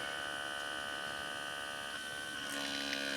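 A small electric water pump runs at a winter hot-tent campsite, giving a steady, close mechanical hum that holds without a break and grows slightly louder near the end, with no voices.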